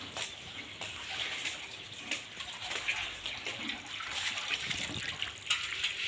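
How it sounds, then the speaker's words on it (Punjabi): Water is poured out in a steady, faint splashing trickle with a soft hiss that continues throughout, and no voices are heard. "ਰਤਨ ਪਾਣੀ ਡੋਲੀ ਜਾਂਦਾ ਸਾਂਭ ਲੈ ਇਹਨੂੰ"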